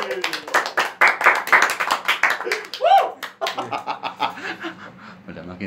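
A few quick bursts of hand clapping in a relaxed indoor chat, mixed with chuckles and laughter and followed by casual talk.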